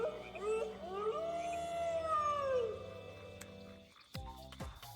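A creature in the video game Spore (2008) lets out a long, wavering howl with rising and falling pitch, fairly close and clear, followed by a few sharp clicking knocks after it ends.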